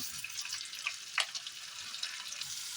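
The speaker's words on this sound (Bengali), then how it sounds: "একটু একটুখানি ভাজা হবার পরে আমি এখানে রসুন কুচি আর এই কাঁচা লঙ্কা কুচনো এর সঙ্গে দিয়ে দিলাম।" Onion and capsicum sizzling in a pan as the base for chilli chicken, a soft continuous frying hiss with small crackling pops, no talking.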